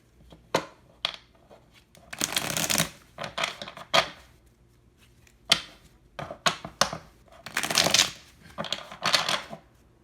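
Tarot cards being shuffled by hand, with quick bursts of riffling and crisp card snaps in an irregular rhythm, broken by short pauses and sharp taps, close and fairly loud with no voices.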